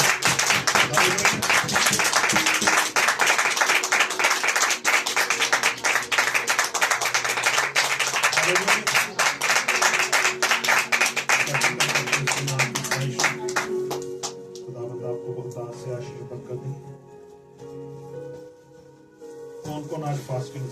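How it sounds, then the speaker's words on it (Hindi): A Hindi-speaking church congregation claps loudly for Jesus Christ, a busy stretch of rapid applause that thins out after the midpoint as music and voices carry on beneath it. "एक बार परमेश्वर यीशु मसीह के लिए तेज तालियां बजाएं।"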